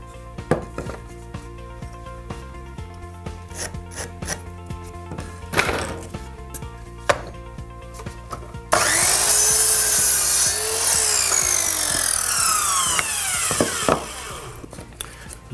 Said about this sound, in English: if you haven't got a chop saw, you can always use your hand saw